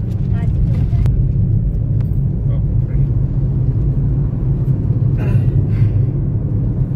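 Idling vehicles sit stuck in a heavy Diwali traffic jam on the Pune-Nashik highway. A loud, constant low engine rumble runs throughout while someone talks over it.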